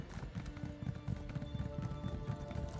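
Horse hooves in Elder Scrolls Online, a continuous quick clip-clop of a trotting mount, moderately loud and steady throughout, with faint background game ambience.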